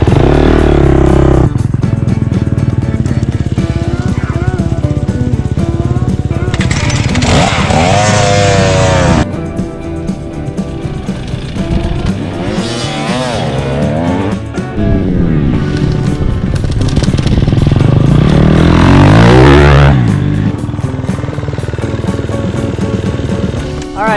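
A dirt bike screams at full throttle in second gear, its engine note climbing loud and close, then easing off under braking before revving up again in repeated runs.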